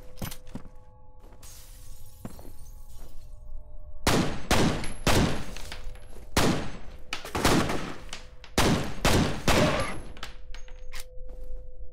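Assault rifle fire in the video game F.E.A.R. comes in loud, sharp bursts of rapid shots, several volleys close together after a quieter opening.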